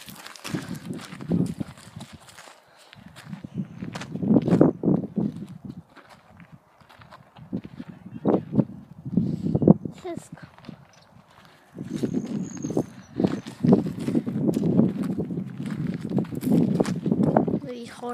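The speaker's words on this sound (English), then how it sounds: "Horses." Horse and pony hooves clop irregularly on the ground as they walk nearby at Upper Lee Meadows, with low rumbling handling noise and occasional voices mixed in.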